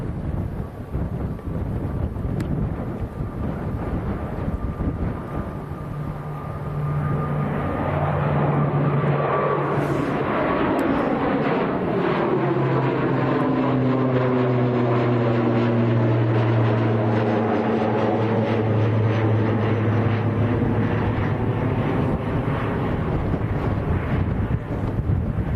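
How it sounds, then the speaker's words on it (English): An Eastern Airways ATR 72 turboprop climbing away from Manchester Airport, loud and close, its propeller drone rising and then sweeping downward as it passes, with gusty wind buffeting the microphone and no voices. "ATR 72 of Eastern Airways."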